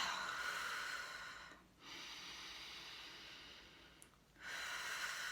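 Two slow, deep breaths drawn and released near the mic, each a soft, airy swell and fade over a steady background hiss.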